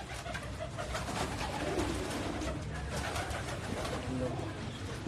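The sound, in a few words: pet pigeons cooing on a rooftop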